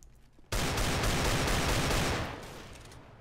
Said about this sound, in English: Shooting the box a little bit.